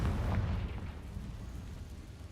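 A fiery Confringo spell from the video game Hogwarts Legacy lands as a single deep, rumbling explosion that fades over a couple of seconds.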